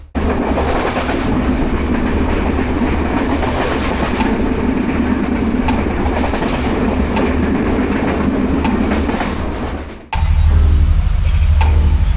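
A train between Colombo and Anuradhapura, Sri Lanka, rumbles steadily along the rails with a dense, continuous roar and faint rattling, then the sound shifts abruptly near the end to a deeper, steadier hum.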